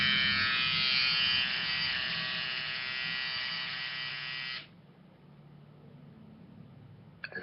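An electric razor buzzes steadily and loudly up close for several seconds, then switches off, leaving quiet room noise and a small clatter at the end.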